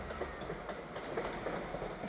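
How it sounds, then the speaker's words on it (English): The Galway train rolls through Dublin Heuston station with a steady, rumbling rush of wheels on rail and a faint clickety-clack, fairly low in level and continuous throughout. "whilst I watch the Galway train chunter by"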